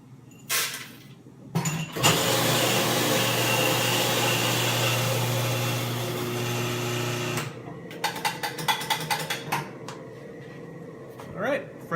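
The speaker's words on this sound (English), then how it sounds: "I like to precisely weigh out the whole bean coffee before you grind" An electric coffee grinder grinds Guatemalan whole bean coffee, light to medium roast, in a loud steady whir lasting about five seconds, followed by scattered clinks and taps.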